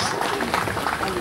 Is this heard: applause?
yes